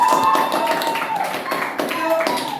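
Classroom applause with brisk taps and claps from pupils, steady and fairly loud throughout, mixed with faint voices and a tonal background.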